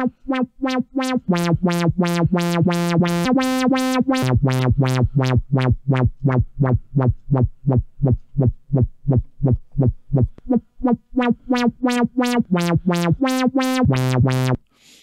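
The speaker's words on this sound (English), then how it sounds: "So we get this now whap whap kind of sound." A rapid, steady stream of pulsing synth notes, each with a resonant filtered "whap" sweep, repeating in a driving rhythm as the pitch shifts between two tones.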